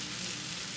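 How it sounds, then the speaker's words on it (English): Tomatoes cooking in a pan for salmon piccata give a steady, soft, even sizzle with no breaks or voices over the brief moment. "now that we got the tomatoes in there, we're just going to cook the tomatoes"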